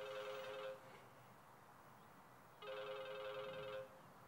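A telephone rings in two long electronic trills separated by a pause, steady and moderately loud over a low background hiss.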